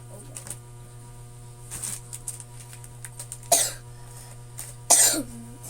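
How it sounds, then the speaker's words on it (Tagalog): Two sharp coughs, a few seconds apart, over a steady low hum in a quiet room, with softer throat sounds before them. "Ayan po, may umuubo pa."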